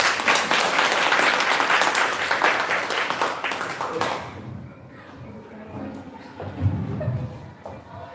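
An audience at a school ancillary staff day and award ceremony applauds, a dense burst of clapping that fades out after about four seconds, followed by low murmuring and a brief voice.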